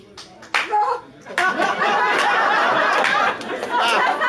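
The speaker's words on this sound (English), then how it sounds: "Round of applause." An audience at an International Sailor Moon Day fan event in Vancouver applauds a performing group, breaking into steady, full clapping after a brief lull, with some chatter and laughter mixed in.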